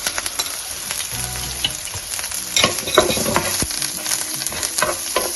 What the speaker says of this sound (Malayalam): ഇതിലേക്ക് നമ്മൾ ഇഞ്ചിയും വെളുത്തുള്ളിയും കൂടെ ഇട്ട് കൊടുക്കാം, കറിവേപ്പിലയും.